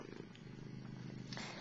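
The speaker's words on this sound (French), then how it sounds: "c'est un chat errant" A stray cat purring close by, a steady low rumbling purr that continues throughout, faint and soft with no voices.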